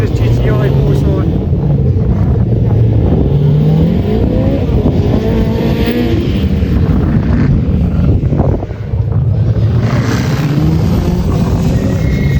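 A Ford Puma rally car at a Race Retro stage event roars past, its engine loud, continuous and rising and falling with revs, with heavy wind buffeting on the microphone throughout.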